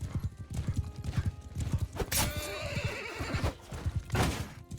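A horse in a medieval battle video game gallops with rapid, steady hoofbeats and lets out a loud, close whinny midway, with a second neigh near the end.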